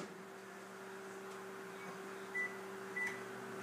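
Asparagus cooking in a microwave oven gives a steady, quiet electrical hum, with two short beeps near the end.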